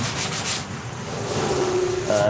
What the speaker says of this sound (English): That's why you want to sort of step up on your grits on your sandpaper in increments.